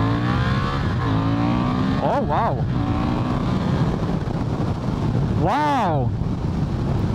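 Honda CB750 Hornet motorcycle engine pulling hard on a highway, a loud steady drone with rising and falling pitch sweeps through gear changes, buried in heavy wind rush while a rider exclaims over it.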